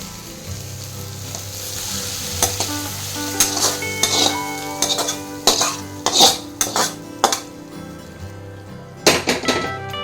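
Cleaned goat intestine pieces added to simmering gravy in a pan, with steady sizzling and bursts of clattering spoon stirring against the pot, loud and close.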